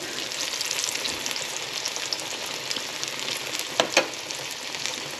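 Coated green tomato slices fry in a pan with a dense, continuous sizzle and crackle, close and steady, with a couple of brief clicks near the end and no voices.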